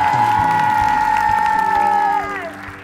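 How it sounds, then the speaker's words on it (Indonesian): A studio audience cheers and applauds a team on an Indonesian TV game show, crowd noise running under a bright, sustained musical sting that fades out near the end. "tepuk tangan untuk tim Wanita Hara"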